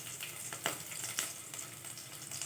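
Raw gravy ingredients sautéing in hot oil for dudhi kofta curry give a steady low sizzle, with a few brief sharper crackles standing out over the constant frying hiss.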